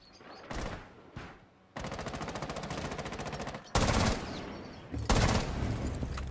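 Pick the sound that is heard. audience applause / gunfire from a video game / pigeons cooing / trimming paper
gunfire from a video game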